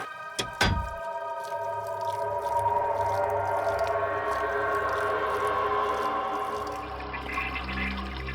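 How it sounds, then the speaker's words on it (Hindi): An open bathroom sink tap left running in a basement pours water in a steady, loud rushing stream, opening with a couple of sharp knocks before the continuous flow settles in. "किसी ने बाथ बेसिन का नली खुला छोड़ रखा है"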